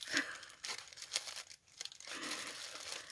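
Adhesive tape is torn from a birthday parcel wrapped in white tissue paper, giving a few short, close ripping and crinkling bursts with brief pauses between them.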